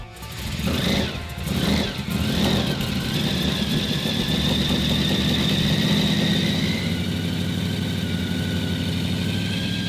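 A supercharged 454 V8 engine cranks and fires up with a few revving surges, then settles into a loud, steady, rumbling idle close by, with no talk.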